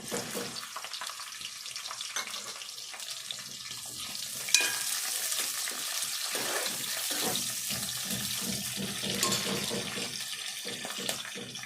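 Onions fry in a pan while making a simple chicken dish, giving a continuous close sizzle with scattered stirring scrapes and a brief clatter near the middle, and no one talks.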